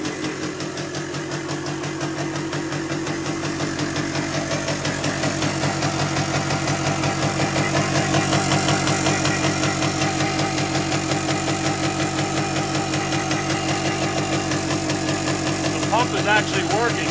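A 1974 Yamaha DT360A motorcycle engine idles close by with a steady, even two-stroke burble that holds for the whole stretch and grows slightly louder, with no talk over it.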